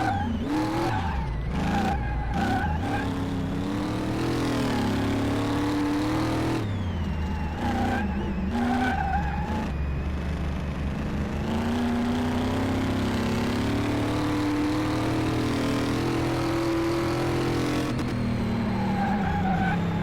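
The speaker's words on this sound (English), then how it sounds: "I'm trying to keep the car straight." A car in the Car Mechanic Simulator video game drives with a revving engine and repeated tire squeals as it skids, loud and continuous for about twenty seconds with no talking.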